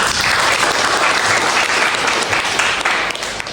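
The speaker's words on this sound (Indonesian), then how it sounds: "kasih aplaus dulu buat kelompok" A roomful of students applauds a presenting group in a university brand-management class, with dense continuous clapping that stays loud and even throughout.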